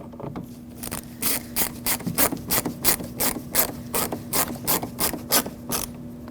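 A ratchet snugging up a screw on a Lexus IS250 door panel, where the screw threads into plastic: steady, close, repeated clicking strokes in an even rhythm over a faint constant hum.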